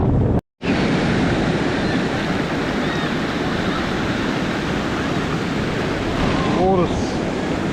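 Waves wash steadily onto a Sunshine Coast beach where swimmers are in the water, a broad continuous surf roar with wind buffeting the microphone and a brief dropout near the start.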